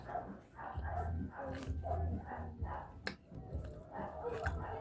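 A dog barks several times in short bursts, fairly close, over a busy background of household noise.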